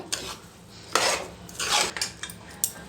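Utensils clink and scrape against a dish while fruit rasayana is mixed, several close, irregular metallic strokes with short pauses between them.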